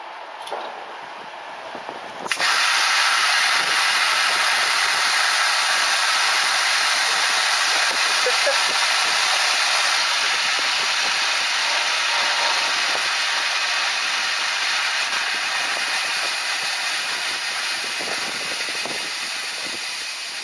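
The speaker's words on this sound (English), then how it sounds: "The experiment is repeated using magnesium, which although more difficult to light, burns more intensely" Magnesium burning intensely, a loud steady roaring hiss that bursts in suddenly after a quieter start and holds near and unbroken for many seconds, fading slightly toward the end.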